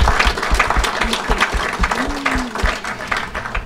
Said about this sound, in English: how about another round of applause for that fantastic and important documentary